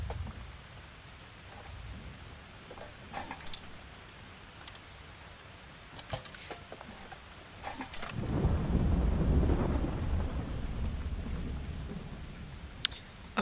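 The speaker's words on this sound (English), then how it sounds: "A perpetual storm rages in a ring around the wizard's tower." Rumbling thunderstorm ambience from the Popup Dungeon video game, raging around a wizard's tower: scattered sharp crackles and a low roll that swells to a heavy, sustained rumble in the second half, with no voices.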